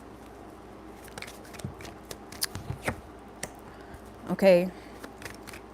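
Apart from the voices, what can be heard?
shuffling tarot cards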